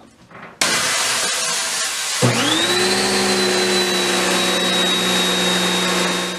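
A Karcher K1700 Cube electric pressure washer rated 1700 psi and 1.2 gpm starts up after a click and runs with a loud, steady whine and hum that holds unchanged for several seconds, close by.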